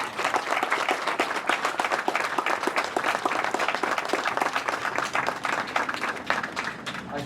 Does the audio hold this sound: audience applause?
yes